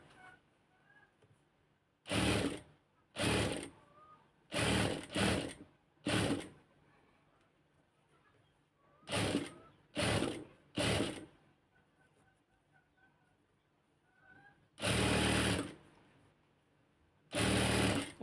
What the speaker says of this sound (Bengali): দিয়ে সেলাইটা শুরু করতেছি